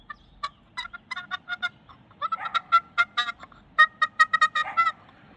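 A run of quick, rolling clucks and purr-like notes from a turkey box call, irregular in rhythm, with a low background rumble.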